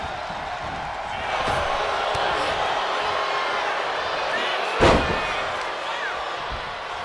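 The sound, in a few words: arena crowd cheering in WWE 2K25 video game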